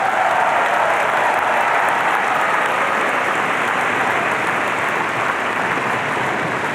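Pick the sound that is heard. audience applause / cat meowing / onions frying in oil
audience applause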